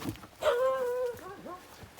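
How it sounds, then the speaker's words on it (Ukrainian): A stray dog gives one drawn-out whining bark that bends down into a shorter whimper, heard close by outdoors during light rain with no talk. "Дикий пес ганяє."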